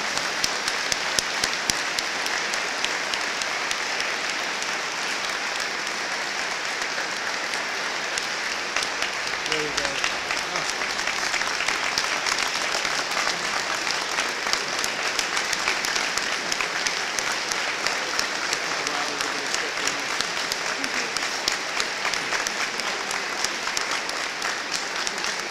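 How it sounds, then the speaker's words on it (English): Sustained applause fills a commencement ceremony as the audience honours the faculty and staff, a dense, even wash of clapping from a large crowd lasting throughout. "I'd like to recognize and applaud for this great faculty and staff."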